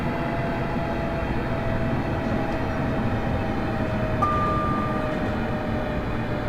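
A passenger train on the Glasgow to Dunblane and Alloa line in Train Simulator Classic rumbles along steadily with a constant loud roar and a brief tonal whine partway through.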